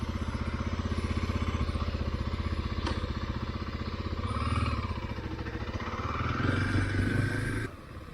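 A Kawasaki KLX motorcycle is ridden to warm its engine, giving a steady, close putter with a brief rise in revs in the middle and a louder surge near the end before it drops back.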